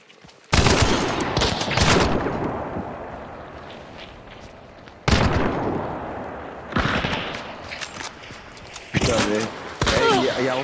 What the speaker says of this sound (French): ils tirent sur toi